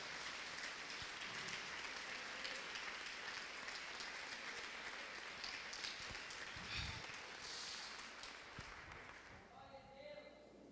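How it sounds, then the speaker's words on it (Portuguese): A church congregation applauds together in sustained, dense clapping that fills the space, with faint voices mixed in before the clapping thins toward the end. "aplauda ao Senhor em nome de Jesus."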